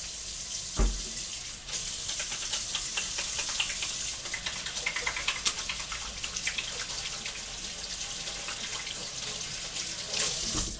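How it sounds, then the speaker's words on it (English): Hands being washed under a running kitchen tap, a steady close rush of water with splashing shifts as the hands move through the stream, preceded by a brief knock. "Wash my hands."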